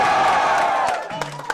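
A crowd at a rock show in Woodstock, New Brunswick cheers and whoops in a loud, brief burst that fades after about a second.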